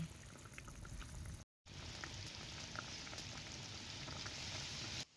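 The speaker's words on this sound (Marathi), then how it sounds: "या कालवणाला चांगली खळकावून उकळी आली" Fish curry of bombil (Bombay duck) bubbles and simmers in a pot on a village wood-fired stove, a soft, continuous burbling, occasional pops rising above a steady low crackle.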